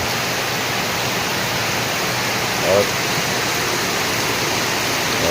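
Loud, steady downpour of heavy rain driven by wind, a continuous roar with a faint brief sound rising midway.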